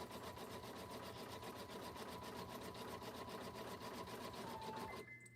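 A home sewing machine stitches quilting fabric with the bobbin thread nearly empty, a steady fast mechanical whir and rapid needle clatter, close and even, stopping abruptly at the end.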